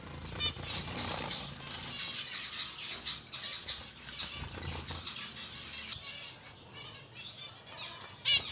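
Young birds with yellow beaks in a nest, fluttering wings and soft scratchy peeps and chirps, faint and close, with intermittent patter of movement.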